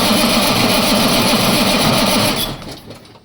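An engine is cranked over by its starter during a fuel flow check, a loud, fast, steady whirring churn that cuts off abruptly near the end.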